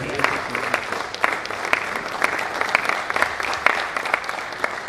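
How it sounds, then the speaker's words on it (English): Audience applause at a College of Medicine scientific conference plenary session, a steady stretch of many hands clapping with distinct claps rising out of the crowd noise, sustained throughout. "Please, let's give me a round of applause."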